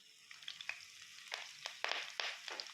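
Cumin seeds and curry leaves sizzle in hot frying oil for a curry, a soft crackling hiss broken by several sharp spattering pops that rise and fade close by, with no voices.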